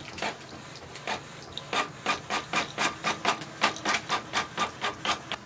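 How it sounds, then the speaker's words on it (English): A Canon Pixma MG3660 inkjet printer prints a test page with a quiet, regular series of mechanical swishing passes that grow steadier and faster toward the end. "I'm going to click on printer test page."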